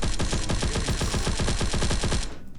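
Rapid automatic machine-gun fire from the mobile shooter game Guns of Boom, a dense unbroken stream of loud shots for over two seconds that cuts off sharply near the end.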